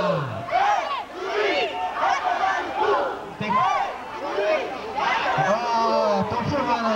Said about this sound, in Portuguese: Olha a torcida lá.